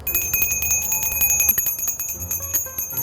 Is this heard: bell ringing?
yes